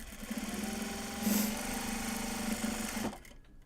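A sewing machine stitches Japanese fabric for large box bags, a close, steady mechanical hum and rapid needle clatter running for about three seconds before stopping abruptly.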